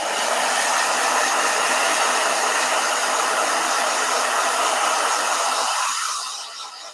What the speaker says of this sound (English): Yay, blow dryer.